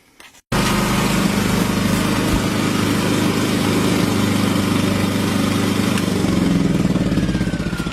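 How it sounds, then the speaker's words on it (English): A home backup generator's engine kicks in abruptly and then runs loud and steady nearby, a constant droning hum that holds for several seconds before easing slightly at the end. "So, I'm shutting the generator down"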